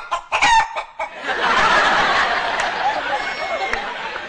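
A human voice imitates hens clucking: a few quick, choppy clucks, then a longer, rising cackle that carries on for several seconds, close and fairly loud.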